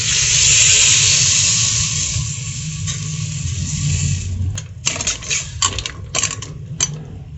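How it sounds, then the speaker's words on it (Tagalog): Water pours steadily into a cooking pot of mussel and moringa soup, a bright continuous hissing splash that ends in a few short bursts and drips. "Ayan, lagyan na natin ng tubig."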